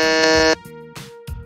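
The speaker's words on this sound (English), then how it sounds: "I only buzzed in to test the buzzer" A quiz-show buzzer sounds during a Pokemon trivia game styled after Jeopardy, giving a loud, harsh electronic tone for about half a second, followed by quieter tonal blips.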